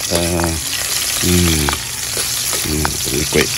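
Garlic sizzles steadily in a hot pan with a continuous frying hiss, broken by a few short tonal bursts that rise above the crackle.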